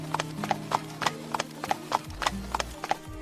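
Horse hooves clip-clop at a steady, even pace as a horse-drawn carriage travels along a forest road, with crisp, fairly close hoofbeats and a low rolling rumble underneath.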